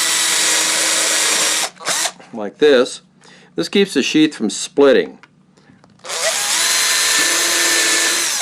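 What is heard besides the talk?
power drill drilling holes in a knife sheath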